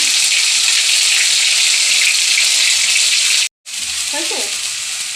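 A ground paste of ginger, cumin, onion and garlic hits a hot pan, giving a loud, continuous, close sizzle that breaks off for a moment and then resumes, with a faint voice just after.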